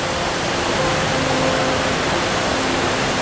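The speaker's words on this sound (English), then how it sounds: "We're now around at the waterfall." Waterfall in Iceland roaring as a steady, dense broadband wash close by, continuous and loud throughout with no voices over it.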